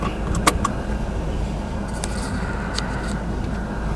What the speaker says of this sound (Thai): ก่อนอื่นเดี๋ยวผมขอ คาดเข็มขัดนิรภัยก่อนนะครับเพื่อความปลอดภัยนะครับ